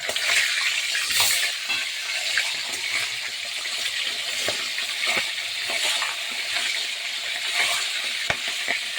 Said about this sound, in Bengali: লেজা মুড়োটা আগে ভেজে নেব।